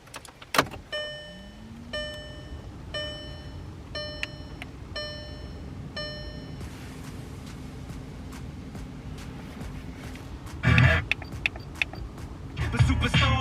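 A 2013 Volkswagen Golf comes on inside the cabin with a series of electronic warning chimes, a rising whir and a low steady hum, then ends in a few louder clunks and rustles nearby.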